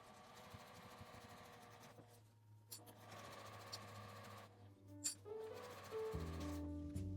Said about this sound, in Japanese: ぐるりと1周1センチの縫い代で縫います。